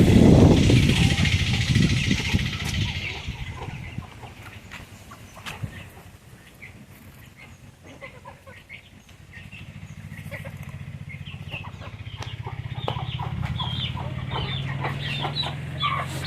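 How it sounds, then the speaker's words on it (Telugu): Country chicks and hens of a native breed cluck and peep in a farm setting, with loud close calls at first, then scattered softer clucks and chirps over a low background hum. "ఇది కూడా మనకి డబుల్ బాడీ కోడి పిల్లది."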